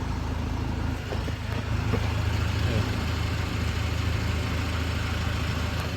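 A Ford Transit van engine with a failed EGR cooler runs loudly and steadily up close, its rumble rising slightly as the revs increase, with no talking.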